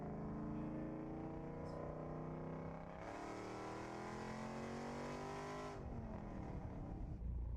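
A car engine revs at wide open throttle toward 5,500 RPM, its steady rising harmonic roar climbing in pitch, then easing and surging again, loud and close with no talking.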